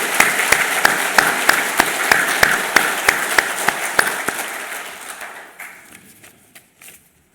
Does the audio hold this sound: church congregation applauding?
yes